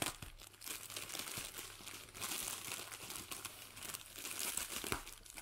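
Packaging from a parcel shipped from China crinkles and crackles steadily as it is unpacked, close and fairly quiet, with sharper crunches near the end and no talking.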